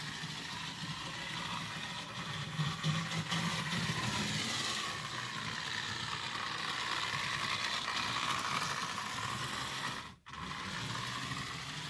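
Tyco Alco Century 430 model train running steadily with a whirring, gear-driven mechanical hum, surging in speed now and then, with a brief dropout near the end.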